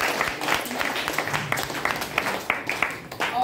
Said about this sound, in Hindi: एक बार हमारे माता पिता के लिए भी जोरदार तालियां